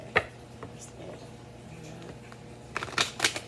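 Tarot cards being shuffled by hand: a quick riffle near the start, a few soft taps, then a burst of crisp card flutters near the end, close and fairly quiet.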